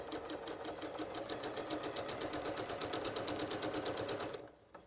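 A sewing machine stitches steadily with its top tension set to zero, a fast even mechanical rattle of needle strokes running close and loud for about four seconds before stopping abruptly.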